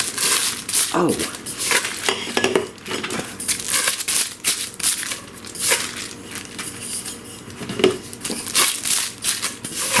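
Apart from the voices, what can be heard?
plastic cover being taken off utility cart parts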